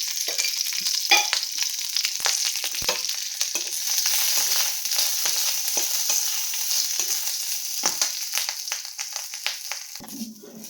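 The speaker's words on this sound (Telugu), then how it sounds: "వేసిన ఉప్పు అండి పచ్చిమిరపకాయలు వేసుకుని వేయించుకుందాం ఇప్పుడు" Green chillies fry with salt in a pan, a close, continuous bright sizzle dotted with frequent crackles and spatter pops throughout, no voice heard.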